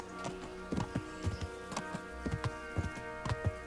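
Horse hooves clip-clop in a steady, moderately close rhythm while riding through countryside in Kingdom Come: Deliverance, with a low ambient music bed beneath and no talking.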